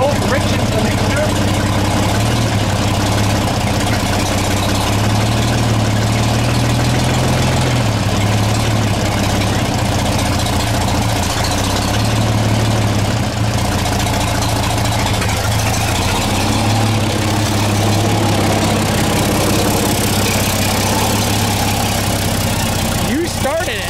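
An engine around 70 years old runs at a steady, loud, rumbling idle after being started with the choke partly out, with voices talking over it throughout.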